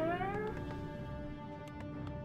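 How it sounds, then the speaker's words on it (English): A cat meows from inside a box, a single drawn-out, tonal meow close by and fairly quiet, with no talking over it. "He's probably in the box, but I didn't know he could meow when he's in a box."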